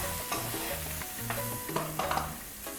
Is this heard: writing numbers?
no